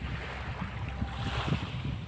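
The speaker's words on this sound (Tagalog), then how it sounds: "Maalon na alon pa yung tubig." Sea waves washing at Baseco Beach on Manila Bay in the Philippines, a steady low rumble of surf with wind buffeting the microphone and no voices.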